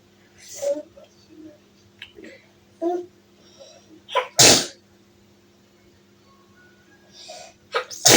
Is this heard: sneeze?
yes